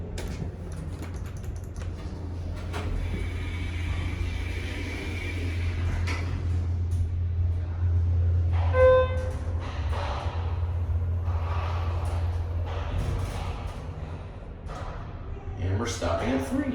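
A Schindler HT 330A hydraulic elevator runs with a steady low hum, while door clatter, mechanical clicks and a short chime rise above it; people talk nearby.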